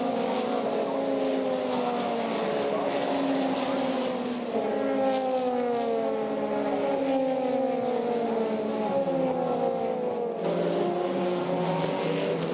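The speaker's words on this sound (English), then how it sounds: "Marcus Armstrong out of club, over the timing line, and then down towards Abbey he will go." FIA Formula 3 race cars at Silverstone, engines screaming through repeated upshifts as they pass at speed, a steady high-pitched roar that rises and falls in pitch, with race commentary spoken over it.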